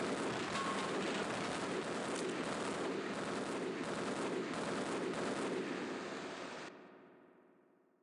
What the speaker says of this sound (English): Who is excessively shooting at me?